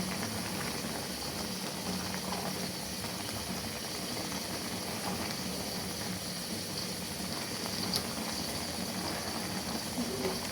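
Taro boils in a pot, giving a constant, even bubbling hiss that stays level and fairly close the whole time, with no talking.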